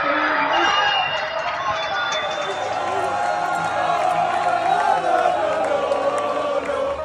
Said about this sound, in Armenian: Իսպանիայում ուրախության ճիչերով են դիմավորել էլեկտրաէներգիայի վերականգնումը։